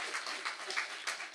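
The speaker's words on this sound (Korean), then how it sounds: "이런 기쁨을 주신 우리 하나님께 찬양의 박수 올려드리시다." A church congregation claps together in praise during a Sunday worship service, a broad, steady wash of applause with rhythmic swells, filling the hall without any voices over it.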